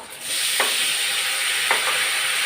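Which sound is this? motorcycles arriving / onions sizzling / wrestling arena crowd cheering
onions sizzling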